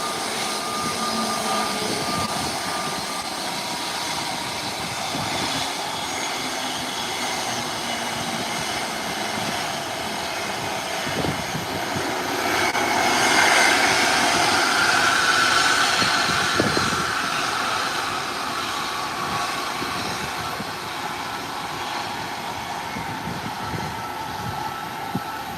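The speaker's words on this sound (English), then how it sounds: "And here's the Embraer 170 being taxied" Distant, steady engine roar of an Embraer 170 airliner taxiing at an airport, a broad continuous hum that swells slightly midway before easing back, with no voices.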